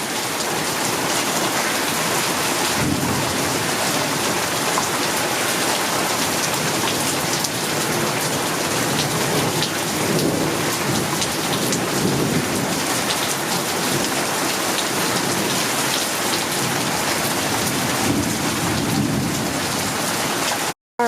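Heavy, steady rain pours down during a thunderstorm with frequent lightning, a dense unbroken roar of drops on surfaces that stays loud for the whole stretch and cuts off abruptly at the end.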